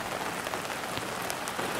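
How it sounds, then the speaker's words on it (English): Heavy rain drums steadily on a van's awning at a campsite, a dense continuous patter with scattered louder drops, no voices. "As the hours pass, the rain becomes heavier."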